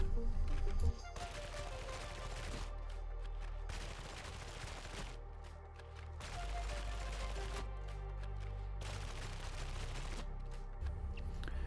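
Infantry lasgun fired in the Psychanium training area of a video game, heard as several loud bursts of rapid shots separated by short pauses, over a steady background hum, with no voices.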